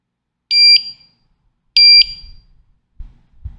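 A Hikvision AX PRO alarm system's siren gives two short, sharp, high-pitched beeps about a second apart at low volume during a volume test, followed by faint handling thumps.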